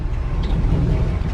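An old carbureted truck engine idles steadily in -35C cold, a continuous low rumble that stays close and fairly loud with no voices over it.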